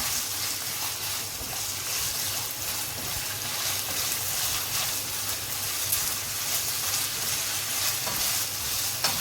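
Steady, close sizzling and crackling of chicken frying in a hot pan, continuous and even throughout with no voices.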